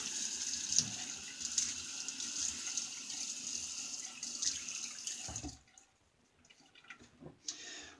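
Tap water runs steadily into a sink as a face is wetted for a shave, a close, even hiss that cuts off partway and gives way to faint drips and handling noises.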